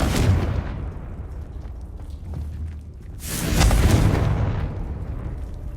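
Confringo fire-blast spells exploding in Hogwarts Legacy, a loud boom at the start, then a second louder rushing, roaring blast swelling midway and fading, no talk.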